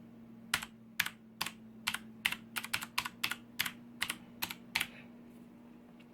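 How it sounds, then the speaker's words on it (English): Typing on a Rii RK100 backlit membrane gaming keyboard, about fifteen soft, muted keystrokes in an uneven rhythm, close and fairly quiet over a steady low electrical hum. "So I'm going to type just something basic."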